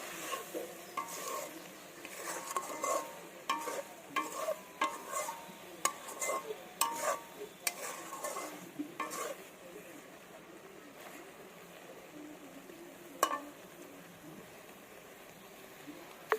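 Loitta fish curry with lemon leaves cooks over a wood-stick stove outdoors, giving faint simmering and a series of sharp spoon scrapes and taps against the pot, quiet overall, with a voice now and then.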